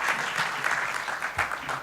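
An audience at a conference panel session claps in a dense, steady round of applause, moderately near, holding an even level with slight swells throughout.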